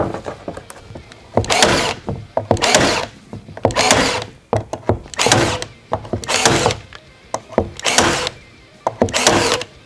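A Milwaukee M12 cordless stapler drives staples through 5 mm plywood into OSB, firing about eight loud, sharp mechanical thunks at a fairly regular pace, each followed by a short pause.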